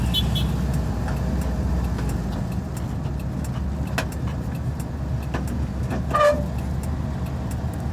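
One short car horn honk sounds near the end, close and sharp, over the steady low engine rumble of São Paulo street traffic heard from inside a Volkswagen Kombi.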